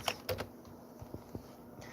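Computer keyboard typing in a quiet room: a few quick clustered keystrokes at the start, then sparse, soft individual key taps spaced across the rest, close and faint with no talking.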